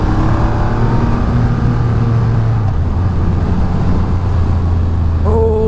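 A Triumph Rocket Triple R motorcycle ridden hard through turns, its engine a steady, loud, low droning roar that holds throughout, with a brief higher tone near the end.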